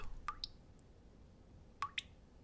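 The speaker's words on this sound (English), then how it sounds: "the only noise being a dripping tap which seemed to get louder and louder with" A dripping tap in a silent room: two single drops, each a sharp, clear plink with a brief ringing tail, spaced well apart and heard alone against a quiet background.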